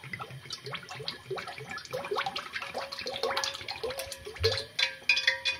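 Soybean oil is poured into a pan for frying nimki, a thin liquid trickle and patter with light dripping, close and moderately quiet, rising slightly toward the end.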